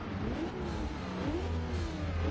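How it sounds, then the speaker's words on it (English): A heavy twin-turbo Ford F-150 SVT Raptor engine in the video game Forza Horizon 2 drones and revs steadily, its pitch rising and falling in waves, loud and continuous with no voices. "Hear that big twin turbo?"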